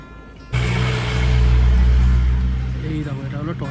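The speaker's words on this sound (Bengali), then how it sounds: "গাড়ি আসছে" A car comes along a hill road near Shimla, its engine rumble swelling suddenly and staying loud and close before easing slightly, with a voice briefly audible toward the end.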